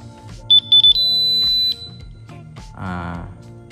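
A portable gas detector switched on, sounding several short high-pitched beeps followed by a longer continuous tone, with faint background noise and a brief scraping handling sound afterward.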